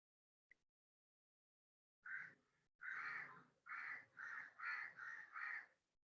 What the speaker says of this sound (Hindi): सर कौवे की आवाज आ रही है